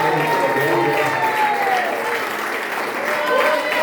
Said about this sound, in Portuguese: Vamos dar a salva de palmas ao Senhor